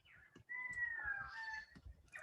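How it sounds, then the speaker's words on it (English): Outdoor birds call with a clear drawn-out whistling cry at moderate distance, one sustained call with a few faint chirps around it in an otherwise quiet setting. "Yeah, the birds are coming with me."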